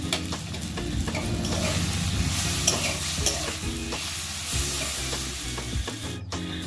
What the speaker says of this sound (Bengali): গ্যাসের আঁচটা কমিয়ে ভালো করে এইভাবে ভেজে নিতে হবে